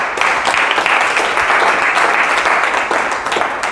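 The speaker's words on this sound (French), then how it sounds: "Acclame pour le Seigneur" A church congregation applauds steadily throughout, dense sustained clapping filling the room at full loudness without a break, with faint voices mixed in underneath.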